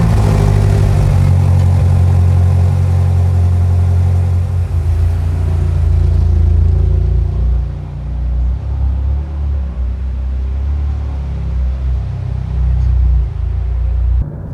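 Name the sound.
BMW M8 Gran Coupe engine driving off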